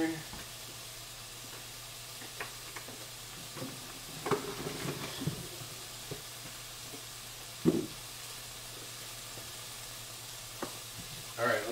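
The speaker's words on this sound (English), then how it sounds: "We're gonna deep fry them" Oil sizzles steadily in a pan as food deep fries in a home kitchen, a constant close hiss broken by a few soft knocks and stirring clatters.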